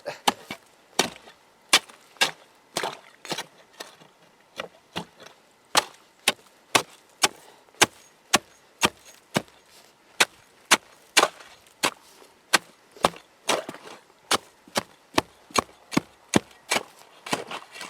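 Repeated sharp chops of a tool striking ice, cutting a trapped otter free from a trap pole; irregular close, loud impacts, some in quick pairs, with no talking.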